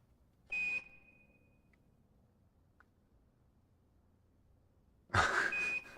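Air Hauler 2 flight-sim software gives electronic beeps in a quiet room, one short tone near the start and another about five seconds later, each a bright steady pitch with a breathy burst.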